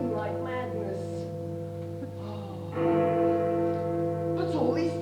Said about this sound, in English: The bell tolls 3. 4.